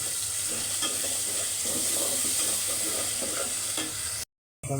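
Whole spices such as bay leaf, cardamom, clove and pepper hit hot oil in a pan, giving a steady sizzle with light stirring scrapes, then the sound cuts out abruptly near the end.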